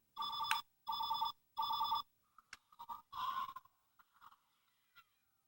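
A Multi-pac morpher toy plays an electronic phone ring: three even, bright ringing bursts, then a few shorter beeps and chirps, fairly faint with no talking.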